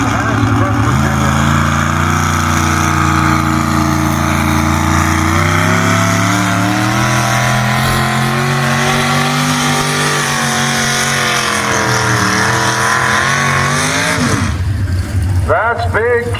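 A 1978 Ford truck named Blessed, powered by a big cubic-inch big-block Ford engine, bellows loud and continuous at a fair truck pull, its pitch climbing steadily during the run before dropping off near the end.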